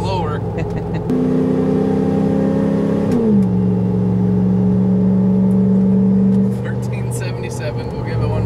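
An OBS Ford truck with a 460 engine revs loudly and steadily, pitch climbing then dropping and holding as it bogs, a continuous close engine drone with people talking over it.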